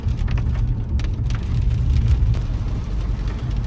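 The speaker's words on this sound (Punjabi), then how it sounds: "ਮੀਂਹ ਸਾਰੇ ਹੀ ਬਹੁਤ ਹੀ ਪੈ ਰਿਹਾ ਆ ਬੜਾ ਜੋਰ ਤੋਂ" Heavy rain pours down steadily near a damaged rural road among crops, a dense, continuous hiss with the patter of drops and no talk.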